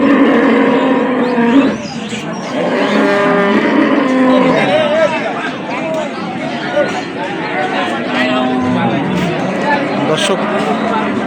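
Friesian cows and calves low loudly and repeatedly amid a busy cattle market crowd in Dinajpur, with people talking and calling throughout over the bellowing.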